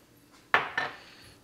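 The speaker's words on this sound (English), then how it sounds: "stir it around a little" Onions and celery are stirred in a cooking pan, giving two close, clattering knocks of a utensil against the pan with a short, fading scrape, otherwise quiet.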